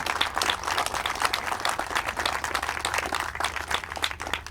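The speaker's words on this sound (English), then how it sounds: "Round of applause for those kids." Outdoor applause from a crowd at a greenhouse ribbon-cutting ceremony, with uneven, lively clapping and a low hum underneath, sustained for several seconds at moderate loudness.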